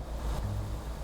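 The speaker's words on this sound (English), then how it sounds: "Your engine sounds fine." Steady low rumble of a truck engine idling and running in American Truck Simulator, a continuous even drone with no talk over it.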